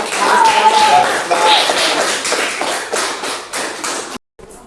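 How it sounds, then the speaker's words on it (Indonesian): Clapping from a small classroom audience for a student presenter, a loose patter of hands at close range with faint voices mixed in, ending abruptly. "Tepuk tangan buat"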